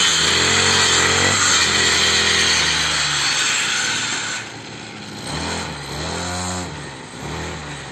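A small gasoline mini brush cutter cuts tall grass in a yard, with a loud, continuous buzzing engine close by and a few brief dips and rises in pitch as the blade works through the growth.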